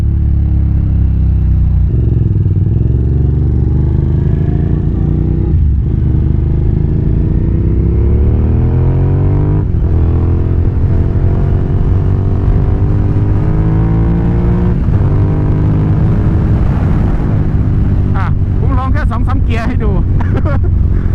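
A Suzuki TL1000R motorcycle, whose engine is giving off smoke, makes a U-turn; its engine hums steadily up close, the pitch sliding and rising as the throttle opens, with a burst of sharper revving near the end.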